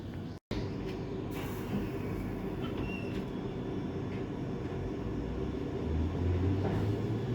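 A London Underground train runs steadily toward Acton Town, giving a continuous low rumble and rail roar with faint squeals, heard from inside the carriage.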